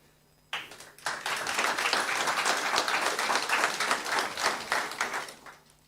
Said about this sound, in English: Y'all clap too quick.